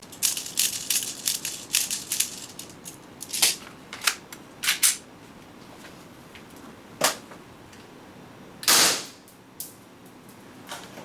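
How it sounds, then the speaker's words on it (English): Green gas airsoft gun fired in a string of separate sharp cracks, some in quick clusters and others spaced seconds apart, close and loud over a quiet background. "we are going to try to fire as many rounds as possible"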